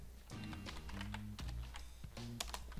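Rapid, irregular computer keyboard keystrokes as a name is typed, close and clear, with a steady tonal backing of background music and no voices.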